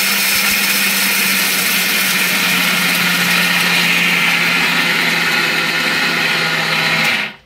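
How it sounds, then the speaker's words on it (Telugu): A kitchen mixer grinder whirs at full power as it pulverizes roasted sesame seeds into powder, a loud steady motor drone with a high whine that runs unbroken for about seven seconds before cutting off abruptly at the end. "వేపుకున్న నువ్వులు ముందుగా అయితే మిక్సీ వేసుకుందాం అన్నమాట"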